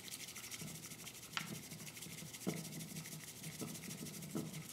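A bamboo whisk brushes back and forth through matcha in a bowl, producing a soft continuous scraping hiss with faint rhythmic strokes, close and quiet.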